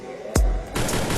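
Video game gunfire: a single sharp, loud shot with a deep boom, followed by a burst of rapid, crackling fire trailing off.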